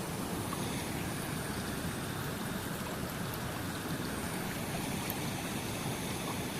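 A mountain spring trickles and gurgles in a steady, close, unbroken wash of flowing water, with no voices over it.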